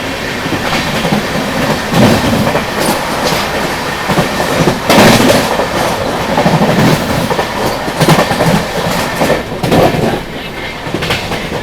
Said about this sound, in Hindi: बगल से भी क्रॉस हो रही है गरीब नवाज एक्सप्रेस